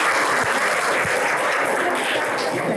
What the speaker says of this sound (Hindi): तालियां बजाओ अपने लिए